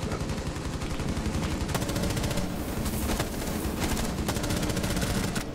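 Rapid gunfire from a Rainbow Six Siege match, dense overlapping shots and bursts rattling continuously and loudly with sharper cracks standing out, no voices over it.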